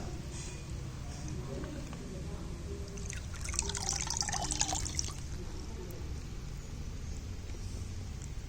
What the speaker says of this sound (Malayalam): നമുക്കിനി ഫിഷിനെ റിലീസ് ചെയ്യാം.